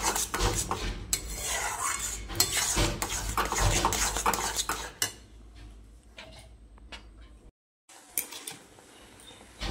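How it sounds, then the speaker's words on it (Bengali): Boiled mung dal is mashed with turmeric in a pot, a spoon scraping and stirring loudly and continuously for several seconds, then fading to lighter, scattered clinks. "হলুদ দিয়ে একটু ঘেটে করে দিয়ে জল দিয়ে ফুটিয়ে নেব"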